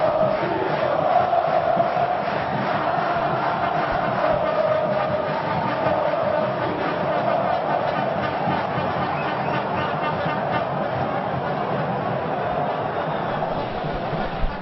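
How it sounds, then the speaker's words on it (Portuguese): Bahia supporters roar through a packed Pituaçu stadium during a 2011 Brasileirão match against Atlético-PR, a dense and sustained crowd noise that stays loud and even, with chanting swells inside the roar. "E agora a torcida do Bahia aproveita para incendiar o estádio de Pituaçu."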